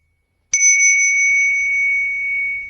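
A single bell rung for meditation strikes sharply after a brief silence, then rings on as a clear, pure sustained tone that slowly fades, with no voices.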